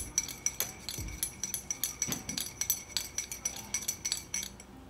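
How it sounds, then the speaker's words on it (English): A metal spoon stirs sugar into a cup of Long Island strawberry green tea, clinking rapidly and repeatedly against the sides in a close, bright, continuous rhythm. "just give it a couple of stirs"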